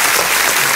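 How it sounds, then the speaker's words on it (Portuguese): Loud, close applause from an audience, a dense burst of clapping filling the whole brief moment. "Sensacional, palmas de novo."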